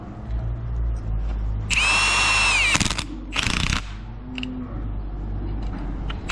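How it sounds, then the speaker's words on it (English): A Milwaukee power tool with a socket spins a fitting in a tight spot on agricultural hire equipment: a loud, whining burst of about a second, then a shorter rattling burst, over a steady low engine-like rumble. "Get the trusty Milwaukee on here, short whoopers."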